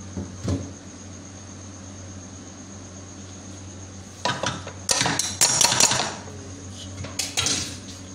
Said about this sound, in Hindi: ये हम लोग थोड़ा सा ऑयल डालेंगे पैन के अंदर ताकि चावल स्टिच ना करें आपस में इसके अंदर चावल ऐड कर देंगे